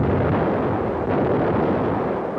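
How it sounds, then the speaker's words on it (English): German long-range artillery shells wartime Leningrad, heard as a loud, continuous rumbling roar of barrage fire with no separate distinct blasts and no speech. "For days, long-range guns hurled ton after ton of high explosives into the heart of the city."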